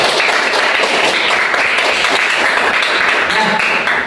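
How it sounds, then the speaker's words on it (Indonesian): Classroom applause from a group of students, a steady wash of many hands clapping fairly loudly and continuously throughout. "Kita beri tepuk tangan dulu."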